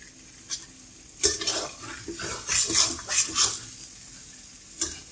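Mutton karahi with chopped ginger fries in a wok-like pan, with bursts of sizzling and scraping stirs and a few metal clinks, close and moderate, between quieter pauses.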